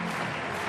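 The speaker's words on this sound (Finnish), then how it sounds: "Yleisö kannustaa keihässankaria." Stadium crowd at the 2015 Kalevan kisat men's javelin cheering a thrower, a brief, dense wash of roaring voices and applause, loud and steady with no single voice standing out.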